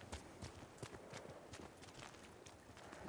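Horse hooves clip-clop in a quick, regular rhythm in the video game Ghost of Tsushima, fairly faint, with a soft ambient backdrop behind them.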